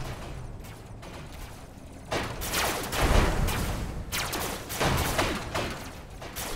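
Video game gunfire in a multiplayer shootout, loud bursts of rapid shots that start after a quieter stretch and come in dense waves, close and continuous.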